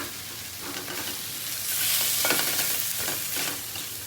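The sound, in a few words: potatoes frying and being stirred in pan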